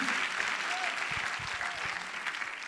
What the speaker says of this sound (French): Donc acclamez le Seigneur.